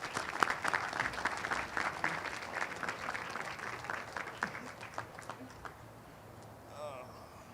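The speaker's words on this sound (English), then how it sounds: "Please give them a round of applause." Applause rolls through the crowd at a Memorial Day ceremony, lively clapping that thins and fades out toward the end, leaving quiet outdoor ambience.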